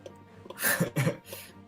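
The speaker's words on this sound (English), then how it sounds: "No, I was coughing." A short, single cough-like burst from a person, close and fairly quiet, with no other sound around it.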